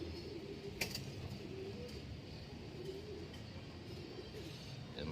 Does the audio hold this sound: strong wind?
no